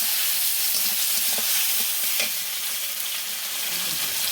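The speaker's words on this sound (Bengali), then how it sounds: "একটু নেড়ে চেড়ে সুন্দর করে নেড়ে চেড়ে নেব মশলাটা" Ginger garlic paste and masala stirred and frying in a pan, a steady close sizzle with faint scraping throughout, no voices.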